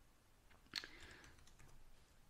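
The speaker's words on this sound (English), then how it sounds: "we're just gonna have to type it out again" Faint, close keystrokes on a computer keyboard while entering a camera's network address, a few soft clicks and a brief cluster of taps in an otherwise quiet room.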